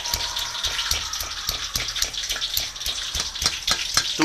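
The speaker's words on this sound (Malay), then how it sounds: "Api jangan kuat bila kita goreng bawang goreng ni." Shallots frying in hot oil over a gentle flame for fried shallots, giving a steady, close sizzle and bubbling crackle with small popping bursts throughout, no voices.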